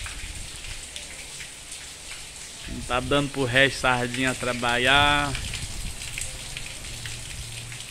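Steady rain patters and hisses on surfaces throughout, while someone speaks briefly in the middle, the downpour continuing on its own afterward.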